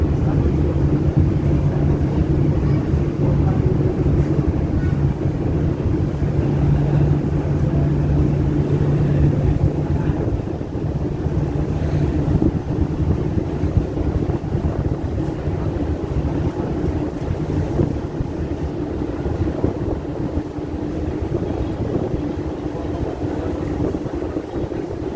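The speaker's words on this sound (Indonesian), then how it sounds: "beginilah suasana di sekitar pelabuhan" Ship KM Nggapulu nearing Tanjung Perak harbor in Surabaya, with a steady low engine drone and broad wind rush on the microphone throughout, loud and continuous with no voices.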